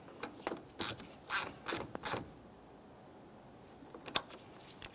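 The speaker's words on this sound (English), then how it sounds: "We'll press that positive terminal onto the battery terminal as far as possible and tighten your 10mm mounting nut." Ratchet tightening a 10mm battery terminal mounting nut on a 2014-2019 Toyota Corolla: several quick, close clicking strokes in a burst, then near quiet and one faint click.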